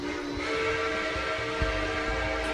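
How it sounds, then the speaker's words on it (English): A faint, distant train whistle holds a steady sustained tone, with soft low rumbling beneath it. "In the distance, you hear the sound of a faint train whistle blowing."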